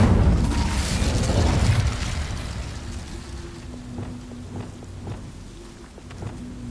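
An Incendio fire spell is cast in the Hogwarts Legacy video game: a loud whooshing, roaring flame burst at the start that fades into quieter crackling and scattered soft pops.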